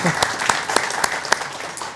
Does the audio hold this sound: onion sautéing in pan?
no